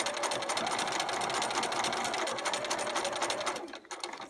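A sewing machine runs steadily as it stitches quilt blocks, a close, continuous mechanical whir that drops away for a moment near the end.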